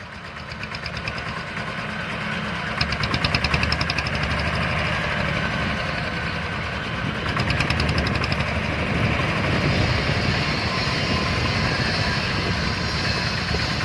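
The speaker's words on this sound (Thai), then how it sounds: "เครื่องสตาร์ทติดง่าย เครื่องนิ่มนะครับ" A six-wheel farm truck sits with its engine idling, a steady, fairly loud diesel-like rumble with a slight rhythmic knock, running close and continuous throughout without talk.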